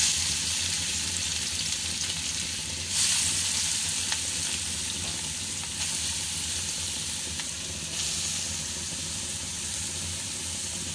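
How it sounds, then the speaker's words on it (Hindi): Carrots fry in ghee with cardamom for gajar ka halwa, giving a loud, steady sizzle that fills the whole stretch, with occasional stirring scrapes and no talk. "ये गाजरों को आप भूनना है, गाजरों को भूनना है।"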